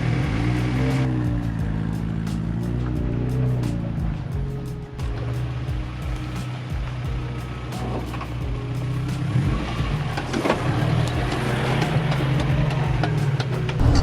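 A two-wheel drive truck with a Lockrite locking rear differential climbs a slippery hill, its engine droning and revving loudly throughout with tyre and dirt noise over it.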